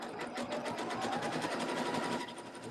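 A sewing machine stitches along a Christmas spool garland with cording, its fast, even needle clatter running close and continuous, then easing slightly near the end.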